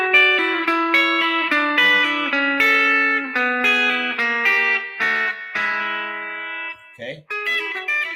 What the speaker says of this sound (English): A lot of country guitar players use hybrid picking quite a lot, kind of that bluegrass country sound.